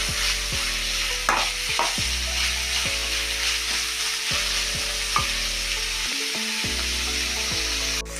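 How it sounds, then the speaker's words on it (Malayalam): Five finely chopped green chillies and onion fry in a pan, making a soft, continuous sizzle with occasional stirring scrapes and no talk. "ഒരു 5 പച്ചമുളക് ചെറുതായി അരിഞ്ഞത്. നേരിയതായിട്ടൊന്ന് ഫ്രൈ ആവണം."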